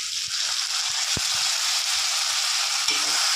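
Ginger, garlic and tomato paste fry in a pan for a fish roe recipe. The sizzle is constant and fairly loud, with a few sharp spoon knocks and scrapes against the pan.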